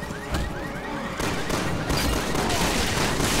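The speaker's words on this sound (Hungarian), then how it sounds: "Kis lövöldözés és big bada boom" Rapid gunfire bursts from the Resident Evil 6 video game, dense overlapping shots with sharp cracks and ringing high-end reverberation that builds and continues steadily throughout, loud and close.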